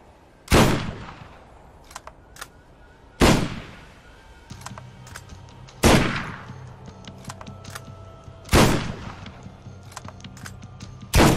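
Heavy Gatling turret fire in the Borderlands shooter game, four loud sharp bursts spaced about every three seconds, each with a ringing tail, over a faint hum and small clicks.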